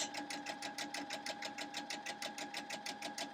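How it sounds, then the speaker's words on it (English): A sewing machine runs a quarter-inch seam on a Friendship Star quilt block, a fast, even rhythmic clatter of the needle repeating steadily throughout at close range. "I'm going to very carefully sew down a 1/4 inch"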